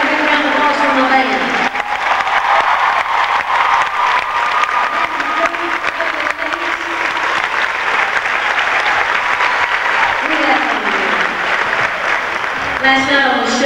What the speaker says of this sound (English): We've got a big round of applause from the band.